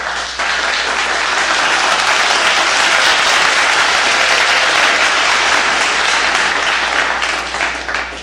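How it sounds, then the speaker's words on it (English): A crowd of audience members applauding and clapping steadily and loudly for several seconds at a live talk show, a dense continuous wash of hand claps with no talking over it. "Can we get some claps?"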